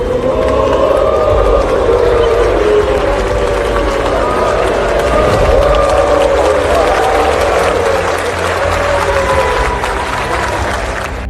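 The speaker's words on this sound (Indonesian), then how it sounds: "terdengar suara sorakan hu dari peserta sidang yang juga disertai tepukan tangan" An assembly crowd at a formal session jeers with a sustained collective "huu" mixed with clapping, a dense, loud roar lasting the whole stretch with no single voice standing out.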